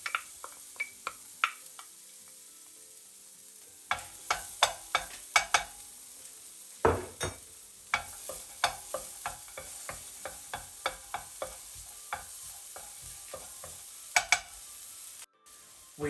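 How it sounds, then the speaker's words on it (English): Chili and garlic fry in a pan over low heat with a soft, faint sizzle, broken by a run of light clicking stirs and scrapes that come in uneven bursts, with no voices. "We are going to fry them about 30 seconds"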